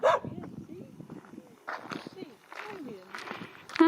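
A grumpy street dog in Colombia gives several gruff barks and growls close by, mixed in among people talking to him.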